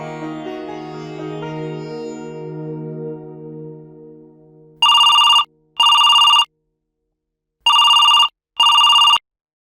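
A telephone rings in two pairs of loud electronic trills with a pause between, after a fading sustained musical tone, with no talking.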